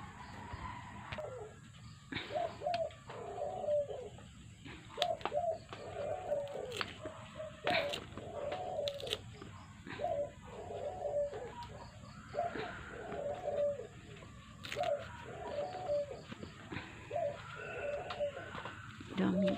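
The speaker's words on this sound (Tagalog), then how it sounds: "maingay yung aming alagang ibon guys. At nag-iingay na naman siya." A pet pigeon or dove coos over and over in a rural province home, a soft repeated cooing that comes in steady bursts about every second or two, close and clear, mixed with faint chirps and light background noise.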